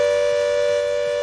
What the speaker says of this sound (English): Air raid siren.